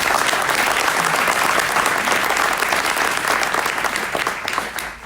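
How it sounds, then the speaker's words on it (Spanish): Loud, sustained applause from a large conference crowd, steady throughout and tapering slightly near the end. "Un aplauso para ella, por favor."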